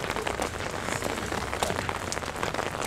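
Steady rain pours down at a beach on the Aquamarine passage in Vityazevo, Anapa, a dense continuous patter with no voices.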